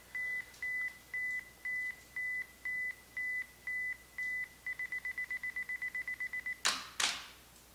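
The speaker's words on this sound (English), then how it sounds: "you can just press your shutter, it'll start counting down" A camera self-timer counts down in electronic beeps. Nine slower beeps come first, then a fast run of rapid beeps, and then the shutter clacks twice. The sound is clear and close, with no talking.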